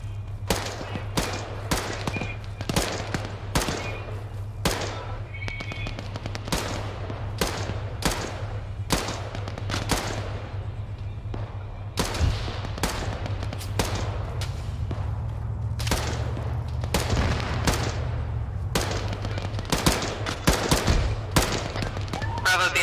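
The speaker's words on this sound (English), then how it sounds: "Shots to my left high though." Rapid gunfire during infantry squad training, dozens of sharp cracks in irregular bursts and single shots over a steady low engine-like hum, loud and close throughout, with voices occasionally mixed in.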